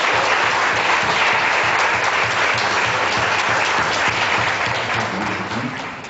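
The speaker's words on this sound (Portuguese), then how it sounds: "Aplauda Jesus Cristo." Church congregation applauding during an evangelical deliverance service, a dense, loud, continuous wash of clapping that holds steady and tapers slightly at the end.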